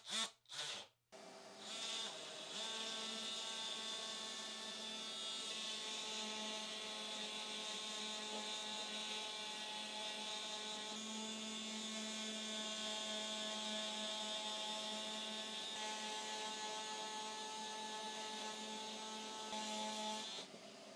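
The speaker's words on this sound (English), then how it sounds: "I'm just going to take my oscillating tool with a sanding pad. I'm just going to sand this down," A steady, high-pitched oscillating tool with a sanding pad whines continuously for about twenty seconds after a few brief clicks, sanding foam on a damaged epoxy surfboard, a buzzing mechanical drone with no speech.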